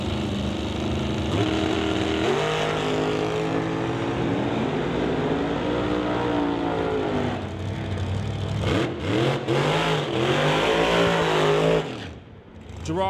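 Drag race cars roar down the strip, the engines winding up loud and close in long rising revs that overlap, then fade away toward the end.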